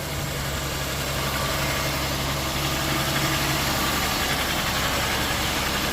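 A 2003 Oldsmobile Silhouette minivan engine idles steadily just after an alternator replacement, a loud, even rumble with a broadband whine and no voices, recorded up close under the hood.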